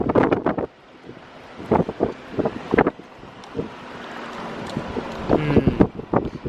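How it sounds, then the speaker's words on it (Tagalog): Strong wind gusts roar and buffet outdoors, a broad rushing noise with scattered heavy thumps against the microphone, under faint speech. "Lakas hangin, diba?"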